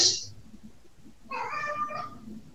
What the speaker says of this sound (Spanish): un gatito.